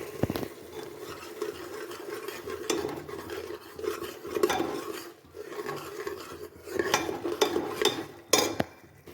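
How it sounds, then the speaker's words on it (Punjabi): A spoon stirs and scrapes through potato and chickpea curry as tomato puree is mixed in the pan, giving irregular close rasping strokes with a few sharp clinks against the metal. "ਹੁਣ ਟਮਾਟਰ ਦੀ ਪਿਊਰੀ ਐਡ ਕਰਾਂਗੇ ਚੰਗੀ ਤਰ੍ਹਾਂ ਮਿਕਸ ਕਰਾਂਗੇ"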